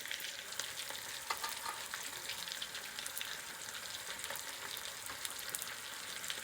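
Dominican meatballs (albondigas) fry in a pan with a steady, close hiss and dense crackle that holds at an even level throughout, with no talking over it.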